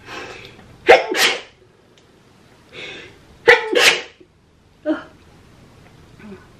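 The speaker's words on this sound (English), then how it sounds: "I gotta sneeze" Three sneezes, each a sharp intake followed by a loud burst, spaced a few seconds apart and close to the microphone, with faint trailing breaths afterward.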